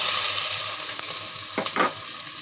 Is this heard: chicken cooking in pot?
yes